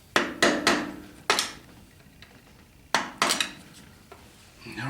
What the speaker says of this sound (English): I'm just going to try to tap a screwdriver in here